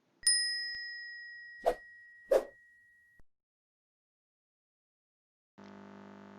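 A bright ringing ding followed by two quick swooshes and a short thump, then a soft tonal hum begins after a pause.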